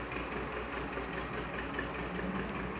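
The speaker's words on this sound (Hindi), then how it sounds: "ये ट्रैक्टर की आवाज़ भी आ रही है" A tractor engine running outside a house, heard as a steady low idling drone with a faint knocking rumble, distant and fairly quiet, continuous throughout with no talk over it.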